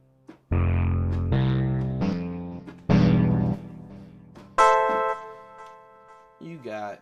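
Keys instrument sounds previewed in beat making software: a run of loud, sustained chord stabs with rich harmonics, several distinct hits in sequence, followed by a brighter bell-like sustained tone and a short wavering phrase at the end.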